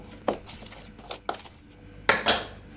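A spoon clinks and scrapes against a bowl in a few irregular knocks while flour, baking soda and starch are stirred up close for banana pancake batter.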